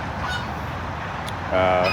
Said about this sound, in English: So the little guy making all the noise right there is an Old English game